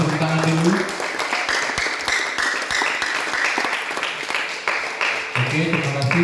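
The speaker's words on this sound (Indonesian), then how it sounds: "Boleh tepuk tangan dulu." A crowd at a church youth camp in Pontianak applauds in a dense, steady burst of clapping that lasts several seconds, with murmuring voices mixed in.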